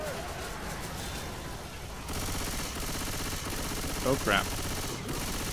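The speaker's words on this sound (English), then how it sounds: "I'm shooting zombies." Rapid automatic gunfire from a machine gun aimed at zombies in the video game Left 4 Dead 2, a dense continuous stream of shots with game noise, and a player's voice briefly speaking over it.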